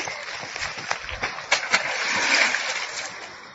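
A stone tossed into a puddle at an abandoned site lands with a couple of sharp, close splashes midway, set against a steady wash of outdoor water and wind noise.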